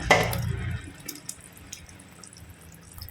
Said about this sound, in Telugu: చూడండి అంతా మరుగుతుంది టమాటో ఇవన్నీ.